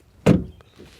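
The frameless front door of a 2022 BMW i4 electric car shuts with a single close, loud, somewhat hollow thunk that fades quickly into quiet.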